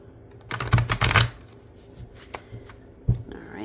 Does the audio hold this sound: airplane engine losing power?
no